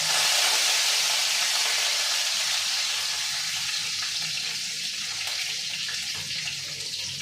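Cumin seeds and curry leaves hit hot oil with mustard seeds already crackling, making a loud, steady, close sizzle that holds throughout and eases slightly toward the end.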